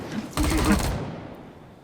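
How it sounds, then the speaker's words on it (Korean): A short, rapid burst of gunfire crackles out, close and loud, then trails into a fading echo. "지금 총소리 맞지?"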